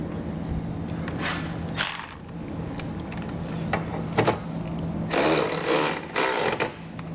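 A 13mm socket wrench tightens a bracket bolt while a Roadmaster direct-connect base plate is fitted to a 2020 Chevrolet, giving close ratcheting clicks in uneven bursts over a low steady hum, with no one speaking.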